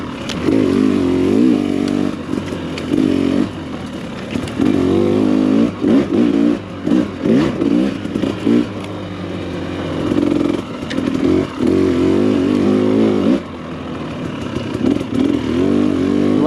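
A new Husqvarna four-stroke dirt bike engine runs while being ridden on a trail, loud and close, rising and falling with throttle changes and rapid revving, no talking.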